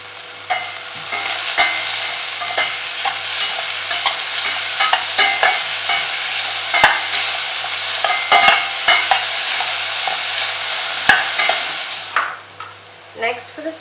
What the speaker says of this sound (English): Next I'm adding onions. Next I'm adding salt for the dish.